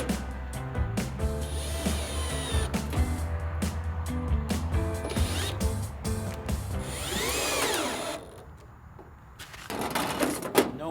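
A power drill drives screws into Yardistry 12x16 gazebo roof panels, whirring in bursts with short pauses and bits of clatter, then a higher whining stretch followed by a brief quiet and more knocks.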